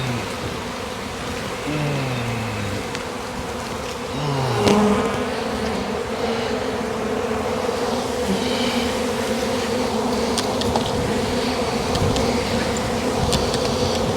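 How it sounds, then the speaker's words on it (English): Honey bee swarm buzzing in a dense, steady drone, with individual bees whining past close by and occasional low hums from beyond. "Might be my bees"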